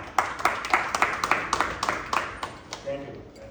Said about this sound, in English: A hand on applause for him.